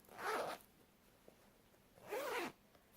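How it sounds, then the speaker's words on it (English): The zipper on a pocket of a hand-knitted bag is pulled twice, each a quick close rasp of about half a second, separated by a quiet pause. "I've got a zip pull pocket here"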